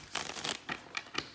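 Tarot cards being shuffled for a reading, a handful of quick, crisp riffling bursts in an uneven rhythm, close and fairly soft, with no talking.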